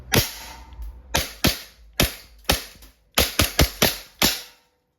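An Umarex Glock 19X gas blowback airsoft pistol fires plastic BBs in about eleven sharp, loud, close cracks, some spaced and some in quick bursts, with no talking.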